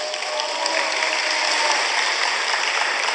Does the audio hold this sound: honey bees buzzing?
no